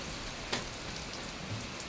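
Heavy morning rain falls in a village, making a steady, dense hiss of water on surfaces. A few sharper drop impacts stand out, and nobody speaks.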